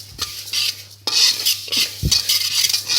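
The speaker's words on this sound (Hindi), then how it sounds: "आराम आराम से अलसी को अच्छी तरह भून लेंगे खुश्क पैन में" Flax seeds dry-roast in a pan with no oil, stirred with a utensil in a series of close scraping, rustling strokes and a light crackle, with no voice.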